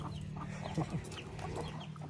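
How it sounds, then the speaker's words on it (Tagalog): Chickens on a small Filipino chicken farm cluck softly and intermittently at moderate distance, a few short calls over a quiet background hum. "Mga manok namin."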